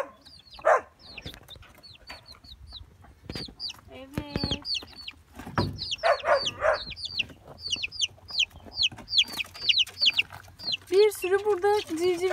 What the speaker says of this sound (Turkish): Bir sürü burada civcivimiz var ve arkasında sanırım anneleri var.